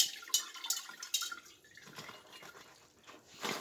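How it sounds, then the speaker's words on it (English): Rinse water tipped out of a rock tumbler barrel holding tumbled stones, heard as close, soft splashing and dripping with a few sharper spills near the start and end. "Dump the water off."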